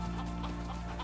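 A chicken in the survival video game Icarus gives brief, steady clucks over a constant hum and game ambience.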